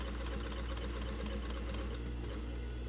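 A sewing machine runs slowly and steadily while zigzag stitching swimwear fabric, giving a continuous close mechanical hum with a fine repeating stitch rhythm and no voices.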